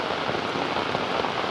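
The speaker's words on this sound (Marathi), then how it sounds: "नाही पाऊस येतो" Steady rain falls outdoors beside a stream during a fishing trip in the Konkan countryside, a dense, even hiss of drops on surfaces with no pauses or voices.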